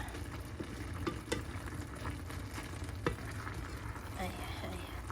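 Pork and laing frying in a pan, a steady dense sizzle with occasional louder scrapes and knocks as the pieces are flipped over, close and continuous with no talking.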